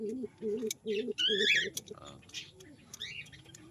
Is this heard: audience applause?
no